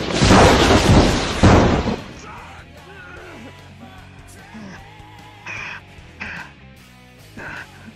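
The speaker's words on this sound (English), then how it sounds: "Corrupted lightning strike. Times 2000." A corrupted lightning strike effect in VRChat hits with a loud, broad crackling burst and rumble over the first two seconds, then fades into quieter ambient game sounds with a few faint later swells.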